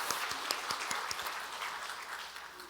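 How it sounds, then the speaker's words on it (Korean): A church congregation applauding during a Sunday service, a soft, distant patter of many hands clapping together that fades gradually over a few seconds. "우리 박수 먼저 하도록 하겠습니다"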